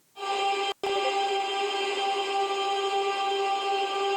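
Blurred electric guitar layer drenched in reverb, serving as a melodic dubstep texture: a sustained shimmering chord wash with steady harmonic bands, briefly cut once near the start, then ringing on alone at even loudness.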